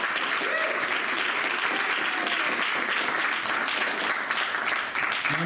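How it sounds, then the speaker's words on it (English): Sustained audience applause at a first-year MFA poetry reading, dense and even clapping from a full room that carries on steadily, with a few faint voices mixed in. "Let's have a big round of applause for all of our poets."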